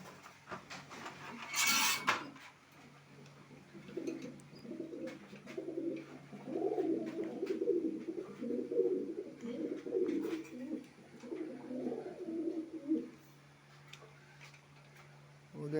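Pet pigeons in a loft give a steady run of soft, low cooing calls, close and continuous, with a brief sharp rustle or flutter near the start and light ticking in the background.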